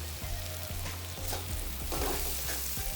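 Chole masala spice sautéing in a pan with oil for homestyle chole, a steady close sizzle with a few soft stirring scrapes spread through it, no talking.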